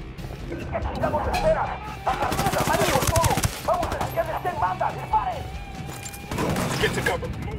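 Video game gunfire: bursts of rapid automatic shots and heavy reports crackling through a busy combat mix, with voices talking over the shooting.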